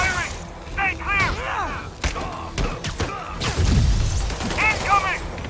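Gunfire in Marvel's Spider-Man Remastered on PS5: scattered shots and thuds amid a busy combat mix, set under game-character chatter and other effects rather than standing alone.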